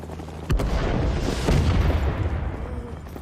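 Video game helicopter roars with a dense, low rumble and a deep boom near the start, sustained loud and close without talking.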